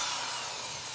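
A drill bores back through a Douglas fir timber during interior work on an A-frame cabin, a constant, fairly faint grinding whir with no break across the short stretch.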